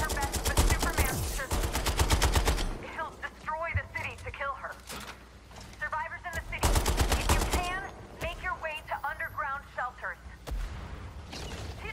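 Machine gun fire in the video game Suicide Squad: Kill the Justice League, rapid loud bursts in the opening seconds and again midway, alternating with stretches of talking voices.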